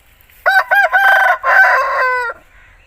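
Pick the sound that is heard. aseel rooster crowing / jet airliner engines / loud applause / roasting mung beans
aseel rooster crowing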